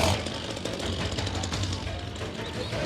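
Chainsaws cut away brush during a wildlife relocation, a steady loud buzzing drone that runs unbroken throughout with a rough mechanical rattle.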